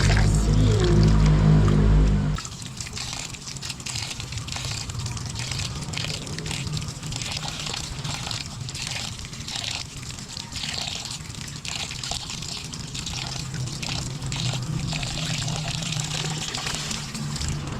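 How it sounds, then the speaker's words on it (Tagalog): Vegetables being rinsed in water for sinigang, a steady sloshing and trickling that runs throughout, preceded by a brief louder splash of handling at the start; no talking. "hugasan natin mabuti yung ating mga gulay"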